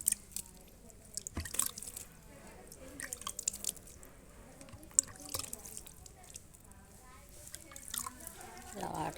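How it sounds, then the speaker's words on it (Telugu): Onion plants in pots being watered lightly, giving faint, scattered trickles and drips near at hand, with a voice talking quietly over parts of it. "ఇంకా వాటర్ వేసేసుకోవడం అండి కొంచెం లైట్గా."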